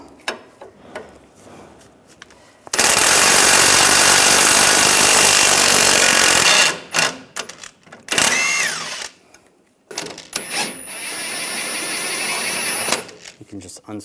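Work on a 2011-2018 Ram 1500 rear upper control arm, where a 24mm bolt and nut come out with wrench and socket; a loud power tool buzzes in long close bursts between clicks and quieter handling.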